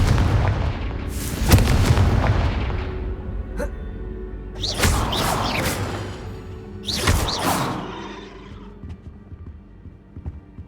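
Confringo fire spell explosions in Hogwarts Legacy land as loud booming blasts with whooshing trails, three main hits spaced a few seconds apart, each decaying into a low rumble, with no talking.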